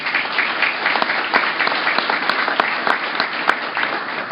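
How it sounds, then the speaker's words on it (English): Steady audience applause fills a public meeting hall of the California State Lands Commission, dense and even clapping from many hands continuing throughout without pause. "Let's give them a round of applause."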